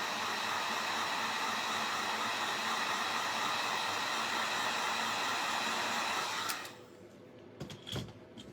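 A hair dryer blows on wet black and blue paint, a loud, steady, rushing whoosh that runs for about six and a half seconds before cutting off into near quiet with a few faint clicks.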